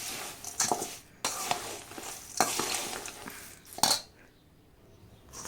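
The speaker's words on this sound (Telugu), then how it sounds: "అటుకులు, పల్లీలు, పుట్నాల పప్పు, కరివేపాకు అన్నీ బాగా కలిసేటట్టు ఇలా కలుపుకోవాలి" Flattened rice (poha) is being stirred together with peanuts, roasted gram and curry leaves for a savory snack mix. Several loud, dry scraping and tossing strokes come close up, then stop and leave a quiet stretch at the end.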